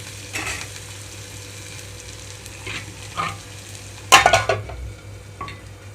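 Onions and green chillies fry in a pan for cabbage chana dal fry with a low steady sizzle, broken by a few scraping stirs and one louder clatter.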